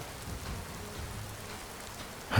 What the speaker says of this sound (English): kind of like this rain.